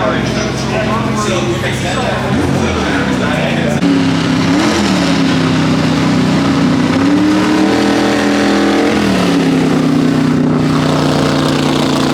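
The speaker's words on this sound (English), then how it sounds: "There we go as the McLaren M80F Can-Am car goes past us again really loud." A McLaren M80F Can-Am race car roars past at a Canadian motoring festival, its loud engine note rising and falling across several gear changes, with a voice speaking over the din.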